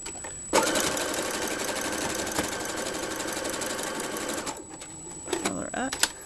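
A sewing machine stitches a zipper bag, running steadily and close for about four seconds with a brief stop-start at the seam's end, followed by a few clicks and handling noises as a person talks.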